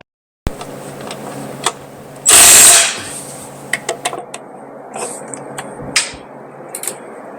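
Heavy impact wrench fitted with a thin-walled chrome socket fires one loud, harsh burst of about half a second. Scattered clicks and clanks of handling follow nearby.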